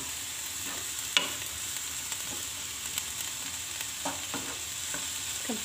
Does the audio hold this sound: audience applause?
no